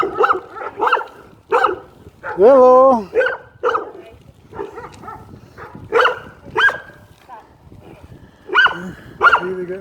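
A dog barks in short repeated bursts with a longer yelping whine in the middle, while a person talks nearby between the barks.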